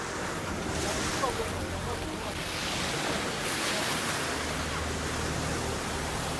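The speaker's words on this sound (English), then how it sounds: "Chucky, careful the waves." Continuous roar of ocean surf and breaking waves along the Transkei coast, broad and steady with wind noise buffeting the microphone throughout.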